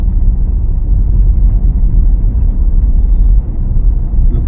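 A car coasts with the clutch held down over a speed breaker, making a steady low road rumble and droning cabin noise with no clear engine revving and no talk.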